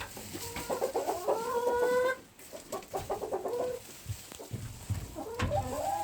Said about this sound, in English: Did you guess a chicken?